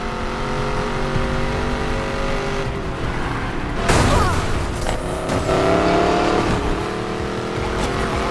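A car engine races in the Need for Speed Payback video game during a police chase, revving hard and roaring past with surges, tire squeals and a sharp burst midway.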